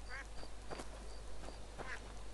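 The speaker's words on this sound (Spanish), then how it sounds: "Ah, hay patos ahí, vale." Several ducks quack in a swampy area of a fantasy role-playing game, a short run of nasal calls repeating at a steady pace over a faint ambient bed with no talk.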